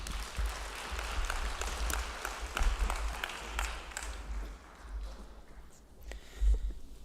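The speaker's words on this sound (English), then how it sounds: "I think that deserves another round of applause." Applause from the audience at a jobs and skills summit in KwaZulu-Natal, scattered hand claps fairly faint and distant in a large hall, thinning out toward the end.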